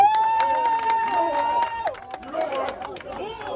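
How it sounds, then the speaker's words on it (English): A crowd gathered for footballer Kudus Mohammed's visit to Nima claps and cheers, a lively wash of applause and chatter with a loud voice carrying over the top. "Kudus Mohammed, just giving round big applause"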